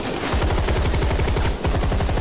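Rapid automatic gunfire from an action war film, a dense, loud, close burst of shots that runs almost unbroken for about two seconds before stopping abruptly.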